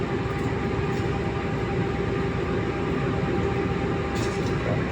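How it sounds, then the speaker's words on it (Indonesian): A Majapahit passenger train departs Madiun station. A steady, moderate rumble of rail cars rolls on continuously with a faint hum and no voices. "Kereta api Majapahit akan segera diberangkatkan ya dari stasiun Madiun."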